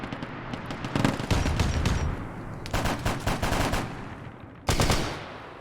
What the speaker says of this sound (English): So that was a heavy stubber with amputator rounds